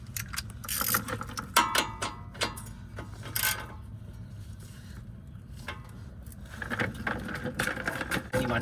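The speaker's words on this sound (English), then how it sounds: "we're gonna go ahead and undo the castle nut. It's a 19 millimeter." A ratchet clicks in quick uneven bursts, loosening the 19 mm castle nut on the front wheel hub of a 2018 Subaru Outback. The clicking sounds close and crisp, with short pauses between strokes.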